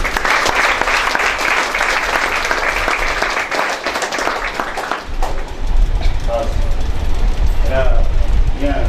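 A church congregation applauds in a dense, loud wash of clapping for the first five seconds, then it fades into a low rumbling room as a voice begins speaking.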